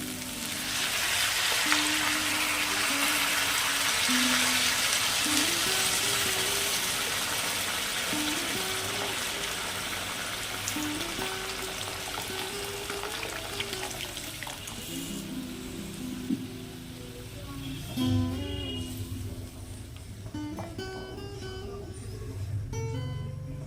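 Warm water goes into a sizzling pan of prawn and jackfruit curry, a long hissing frying sound with running water that gradually eases, stirring clinks near the end.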